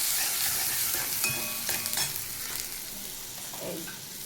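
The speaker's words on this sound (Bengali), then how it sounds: "ভালো করে মিক্স করে দেবো" Ground coriander, cumin and turmeric being stirred into a pan of frying spices, a steady sizzle with scraping spoon strokes close up, no voices.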